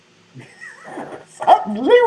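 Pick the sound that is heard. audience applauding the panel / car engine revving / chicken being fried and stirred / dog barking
dog barking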